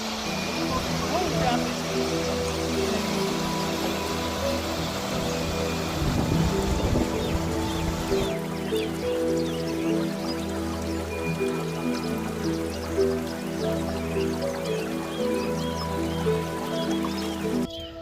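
Vasudhara waterfall near Mana village in the Himalayas, a constant broadband roar of falling water heard from a distance, steady throughout, with gusts of wind over the microphone and a brief rustle midway.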